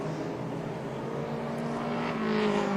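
Race cars circle a track at a memorial race, including the 43 and 28 cars battling side by side, their engines a continuous droning roar that swells slightly near the end.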